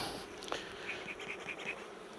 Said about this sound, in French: Il y a plus peu d'abeilles, hein, je les ai bien diminuées.